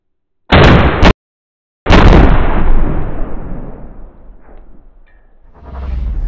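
A small house blown apart by an explosive charge: one sharp blast cuts off abruptly, then a second massive detonation booms up close and rolls into a long, fading rumble of debris, with no voices.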